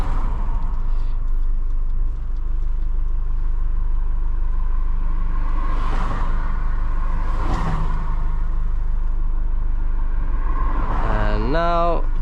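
Cars rushing past one after another while a vehicle waits at a narrow bridge, each approaching and fading with a whoosh over a steady engine idle rumble, loud and close, with a person talking over it.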